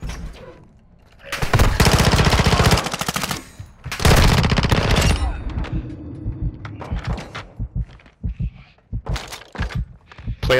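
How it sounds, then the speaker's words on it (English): Close, loud machine gun bursts in the video game MW2 DMZ, two long sustained volleys followed by scattered single shots and thumps as the fire thins out. "taking fire!"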